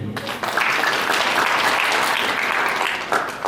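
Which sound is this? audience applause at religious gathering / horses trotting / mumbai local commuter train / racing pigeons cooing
audience applause at religious gathering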